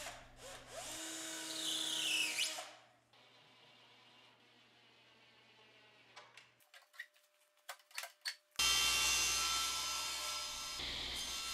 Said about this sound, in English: You definitely have to pre-drill MDF whenever you're putting in screws